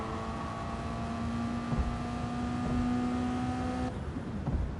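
A video game race car engine drones with a steady high whine, then abruptly cuts out near the end, leaving a lower rumble.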